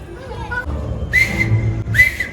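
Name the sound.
person whistling to tease someone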